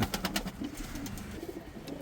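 Pigeons coo in a loft of show and breeding birds, soft repeated coos close by over a low murmur, with no talk.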